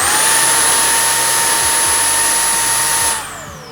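A Milwaukee M18 brushless precision blower with a 10mm nozzle runs at speed 1, giving a loud steady whine and airy rush close by, then winds down at the end.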